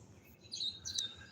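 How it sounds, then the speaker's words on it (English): Small birds, including red birds, chirp outdoors on a morning, giving a few faint, high tweets over quiet background noise. "Got a lot of birds flying around out here this morning."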